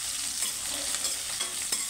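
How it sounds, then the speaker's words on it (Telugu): Green chilli pieces sizzle and crackle steadily in hot oil for tomato rice, a close, continuous frying hiss with a few brief stirring clicks. "పచ్చిమిరపకాయ ముక్కలు అండి 1 సెకండ్ పాటు వేయించుకోవాలి"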